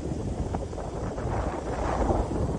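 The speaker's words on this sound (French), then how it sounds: "Le bateau glisse, on marche à 13 nœuds, il y a 12 nœuds de vent." Sailboat gliding at 13 knots in 12 knots of wind, heard as a steady broadband rush of wind and water noise on deck, constant and fairly loud throughout with no voices.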